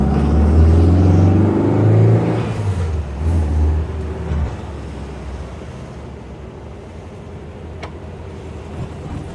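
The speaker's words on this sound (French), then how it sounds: "Je sais pas si vous entendez bien le bruit du moteur qui est juste dingue quand on accélère." A 1962 Volkswagen Beetle convertible with a tuned 1835cc engine accelerates with a loud, deep rumble that fades after a few seconds into a quieter, distant hum.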